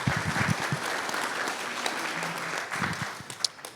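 Audience applause fills a community forum on Seminole County water, a steady spread of clapping from a room of people that swells and thins over a few seconds with no talk over it.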